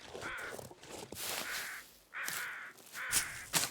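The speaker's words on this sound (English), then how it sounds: "these crows, that's probably what you heard. These are regular crows." Crows caw in a survival video game, several harsh calls in irregular bursts, fairly close, with faint footsteps between them.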